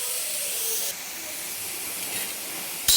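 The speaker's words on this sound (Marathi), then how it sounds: "तर पूर्ण शेंग आपण तव्यावर टाकून घेतली." Whole cluster beans roast dry on a hot iron griddle with no oil, giving a steady close hiss and sizzle that rises into a brief louder burst at the end.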